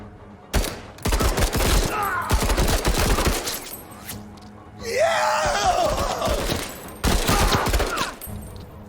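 Gunfire in the tactical video game MENACE, dense bursts of rapid shots in several volleys with short gaps, loud and close, mixed with strained vocal grunts and a brief sweeping tone.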